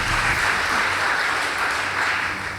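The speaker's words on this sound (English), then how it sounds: "Please give them a round of applause." Applause from the audience at a girls' school debate, a dense, even wash of clapping, fairly loud and continuous through the short stretch with no voices on top.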